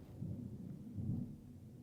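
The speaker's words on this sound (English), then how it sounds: "You can hear the thunder now." Low rumbling thunder rolls through a thunderstorm with rain, swelling in two broad waves over under two seconds, heard from a distance with no talking.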